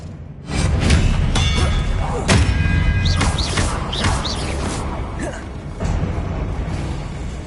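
Expelliarmus spells cast in Hogwarts Legacy on PS5 land as loud thuds and crashing impacts, followed by a cluster of whooshing, chirping magical effects and a final thump near the end.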